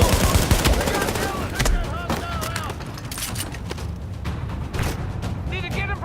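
Rapid automatic gunfire rattles in dense, overlapping bursts during a firefight in Tom Clancy's The Division. Close shots mix with more distant ones, and voices can be heard over parts of the shooting.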